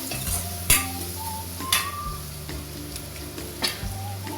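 Chicken gizzard with chilli powder stirred in a hot frying pan, giving a steady sizzle broken by several sharp clinks of a spoon against the pan, with no talking.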